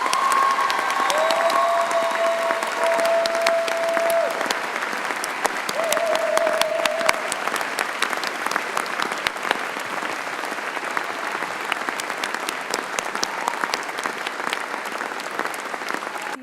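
A large audience at a Birmingham City University event gives a long, massive round of applause, loud and dense clapping sustained evenly throughout with a few scattered cheers and voices in the crowd.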